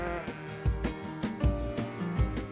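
Sheep on a farm bleating repeatedly in a flock, several overlapping calls at close range, loud and harmonic, with no talk over them.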